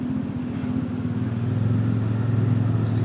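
Motorcycle engine on a road near the Skyway, a steady mid-pitched drone that swells slightly louder as it passes close by, with no talk.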